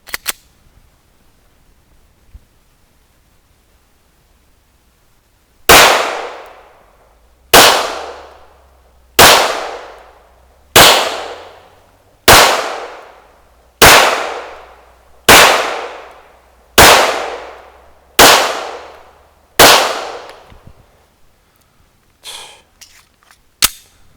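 Ten loud, sharp gunshots from a Smith & Wesson M&P 9 Pro Series 9mm pistol fired at a shooting range, spaced evenly about two seconds apart, each with a decaying echo tail, following a quiet lead-in.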